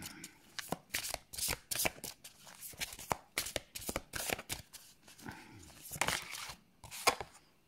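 Oracle cards for a tarot reading are shuffled by hand in quick riffling bursts, a close papery flutter that repeats in an uneven rhythm with short pauses between.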